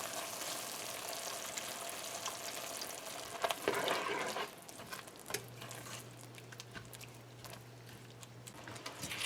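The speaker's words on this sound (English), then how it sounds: "And now we're gonna add our half a can of milk." Evaporated milk poured into coconut cooking in a pan for barfi, simmering with a steady soft sizzle and crackle, a brief louder burst of bubbling midway, then a low continuous hum under the frying.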